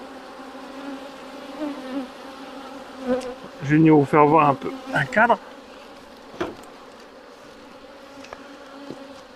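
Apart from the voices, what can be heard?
black honey bees buzzing at hive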